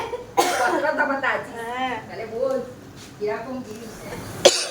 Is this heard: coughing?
yes